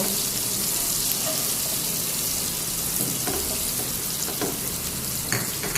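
Onion sizzles in hot oil in a pan for vegetable pasta, a dense, steady frying hiss close up with a few faint clinks and scrapes.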